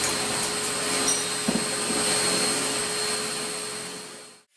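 A homemade grinder built on a shaft running in gritty old skateboard bearings grinds a steel medieval Norman helmet, a steady loud whirring roar with faint scraping that winds down abruptly at the end, with no talk.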